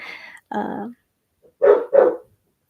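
A dog barks in four short, loud, close bursts: two quick barks, a pause, then a tight pair, set against an otherwise quiet indoor room.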